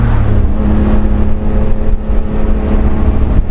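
Honda Beat small car engine revving hard while driving in fifth gear, a loud, steady high-pitched buzz with road and wind noise, close and constant.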